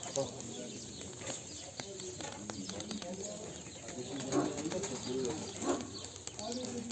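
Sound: cooing of tumbler pigeons, wet from rain

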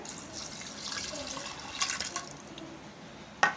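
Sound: pouring rajma soaking water into a pressure cooker

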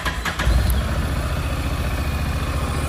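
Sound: Honda NC750XD DCT motorcycle engine starting and idling

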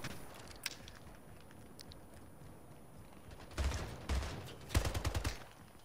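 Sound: gunfire in the video game Splitgate

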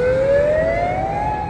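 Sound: evacuation siren on street

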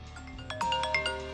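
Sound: generic phone ringtone

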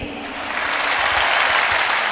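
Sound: applause

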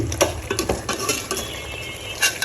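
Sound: sautéing curry with spices in a pan

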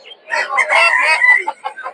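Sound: chickens clucking

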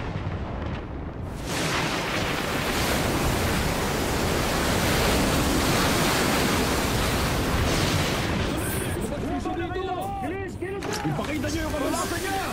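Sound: strong ocean waves in a storm, from an animated cartoon

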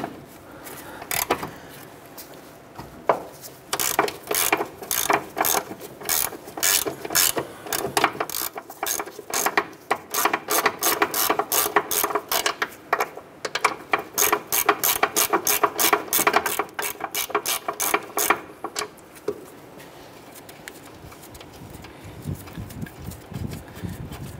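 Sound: ratchet with 17 mm socket removing upper ball joint nut

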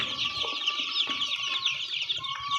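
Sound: Kaveri breed chicks and chickens clucking

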